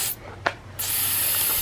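Silly string sprays from an aerosol can in a home, a short hissing puff followed by a loud, sustained spray, close and alone.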